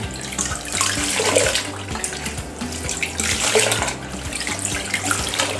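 Cameroon spinach leaves are swished and rinsed in a container of water, giving continuous splashing and sloshing with rhythmic stirring surges, close and fairly loud, with no talking.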